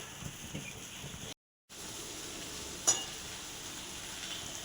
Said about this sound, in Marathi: इथे आपल्याला कमी जास्त फ्लेमवर आपली भेंडी परतून घ्यायची आहे.